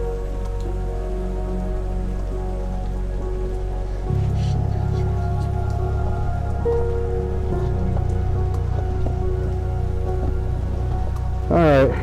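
Steady rain patters on a surface close by on an off-road trail in Lytle Creek, mixed with a low modified truck engine rumble and a brief squeak near the end.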